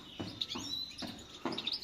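A Tunisian parva goldfinch chick gives a few thin, high chirps in short bursts at close range, quiet, with soft rustling between calls and no voices.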